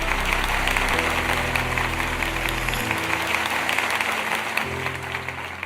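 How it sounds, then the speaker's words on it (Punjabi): Sustained applause from a conclave audience welcoming Union Minister Jitendra Singh at the Dainik Savera Conclave 2023 in Jalandhar, steady clapping throughout with a low hum underneath. "ਕੇਂਦਰੀ ਮੰਤਰੀ ਜਤਿੰਦਰ ਸਿੰਘ ਦਾ ਜ਼ੋਰਦਾਰ ਤਾਲੀਆਂ ਦੇ ਨਾਲ ਸਵਾਗਤ ਕਰਦੇ ਹਾਂ"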